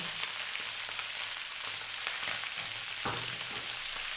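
Onion dropped into a hot pan with browned lamb pieces for a chunky coconut lamb curry, giving a steady close sizzle and crackle with a few louder pops and spits.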